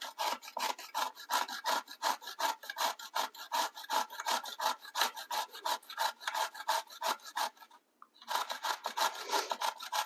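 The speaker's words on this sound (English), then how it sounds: "we'll take our box grater on this cheese grater setting, and we'll just start grating it" A zucchini is grated on the cheese side of a box grater, a close, fast series of rasping strokes that pauses briefly before resuming.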